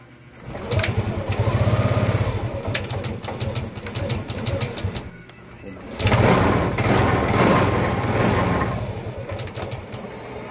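A Yamaha Aerox 155 scooter engine being worked on for an ISC idle fault starts up and runs with a steady buzzing idle, dipping briefly mid-clip before picking back up, close and fairly loud, with a voice talking over it.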